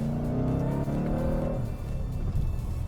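Supercharged Ford Mustang RTR Spec 3 engine heard from inside the cabin, a loud steady low rumble with a droning tone that shifts as the revs change, no talking.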